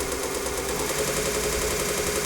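A VEVOR 30 x 1-inch variable speed belt grinder sander with VFD runs steadily with a dense, loud motor whir and belt hiss, close by and unbroken, without talk.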